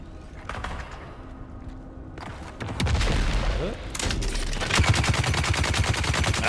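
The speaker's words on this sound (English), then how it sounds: "A little grenade action in there." Grenade blasts and gunfire in Dune: Awakening: scattered shots give way to a loud thumping explosion, then rapid bursts of automatic fire pile up, with a voice talking in places.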